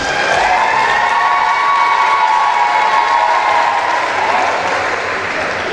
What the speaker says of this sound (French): Applaudissements pour Ophélie.